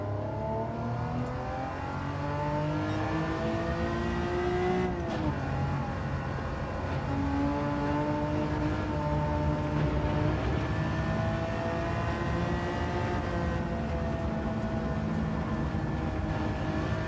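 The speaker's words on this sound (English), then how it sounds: "I can hear the other car" A nearby rival car's engine in a racing game, likely around a TVR, revving steadily with rising and falling pitch as it accelerates, a continuous moderate drone heard without any talk.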